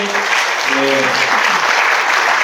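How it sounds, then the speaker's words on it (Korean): A room of pastors at a continuing-education lecture applauding, a loud, dense burst of clapping sustained throughout, with a voice briefly talking over the start. "좀 박수 한번 해주십시오."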